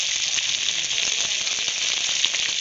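Mustard fish curry (bata fish in ground mustard) bubbling in a pot: a steady, bright sizzling hiss with faint crackles running evenly for a few seconds, no voices.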